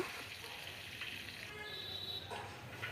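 Onions frying in oil in a pan for a potato dish, giving a steady, close hiss of sizzling that carries on without a break the whole time, with no voices over it.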